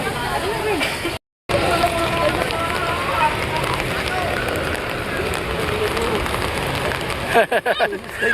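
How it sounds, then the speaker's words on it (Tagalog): Dense, continuous hiss of heavy rain pouring down at an esplanade, with people talking and shouting faintly beneath the downpour. "lumakas ang ulan."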